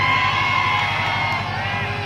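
A kabaddi crowd at a 65 kg match yells and cheers in a steady, dense roar of shouting voices, loud and sustained throughout.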